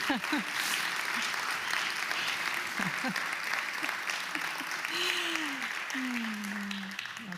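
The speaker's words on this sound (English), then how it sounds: "Let's give her a round of applause" Applause rises from a congregation honoring Jonna at a spiritual gathering, steady clapping filling the room with a few voices and pitched calls mixed in, then tapering near the end.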